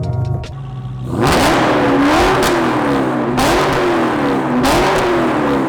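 A 1000hp modified widebody Dodge Challenger Hellcat engine revs hard and loud, with repeated rising surges that climb and fall in pitch over a steady rumble, and no voices.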